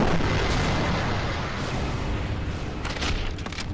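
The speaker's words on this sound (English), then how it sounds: "Oh, he definitely exploded then." A loud, dense explosion in a Skibidi Toilet animation, with a sustained roaring boom and rumble that fills the clip, followed by a few sharper cracks near the end.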